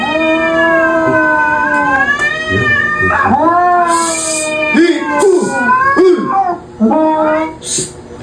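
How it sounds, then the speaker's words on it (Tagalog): A cat meows repeatedly in long, drawn-out, wavering cries, loud and close, with a few short breaks between calls and no talking over it. "So, pusa siguro nila Bert yun"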